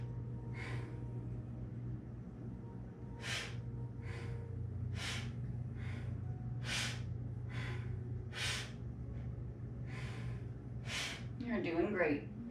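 Rhythmic breathing during Kundalini yoga neck movements, a regular series of about ten strong, close inhales and exhales, each short and sharp, over a steady low hum.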